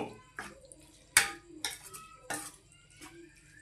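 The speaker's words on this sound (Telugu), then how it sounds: "మూత పెట్టేసుకుందాము." A lid set onto a cooking pot of prawn curry: a few close metallic clinks and knocks, one sharp clang standing out among softer taps, quiet and spaced out over a few seconds.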